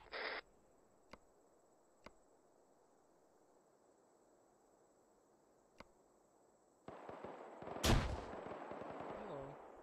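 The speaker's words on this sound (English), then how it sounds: "We're just getting random grenades thrown at us." Grenades burst in an Arma 3 firefight on a hillside, a few sharp distant cracks spaced across a quiet stretch, then a louder close blast followed by a rumbling tail.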